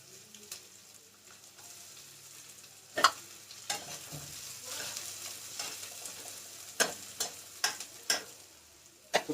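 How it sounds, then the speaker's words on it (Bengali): Finely chopped onions with garlic frying on low flame in a pan for egg fried rice: a soft continuous sizzle punctuated by several sharp clicks and scrapes of a spatula stirring, quiet and close, no talking. "তো পেঁয়াজটা ভাজা হোক"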